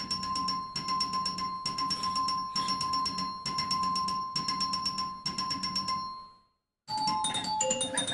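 Chimes on an Eight Ball pinball machine ring out in a steady series of bright strikes as points count up, then fall silent briefly before more chimes and tones follow.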